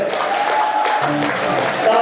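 Audience applause at a show-jumping prize ceremony in Pezinok, a steady broad wash of clapping from a crowd, with a voice and faint tones sounding over it throughout.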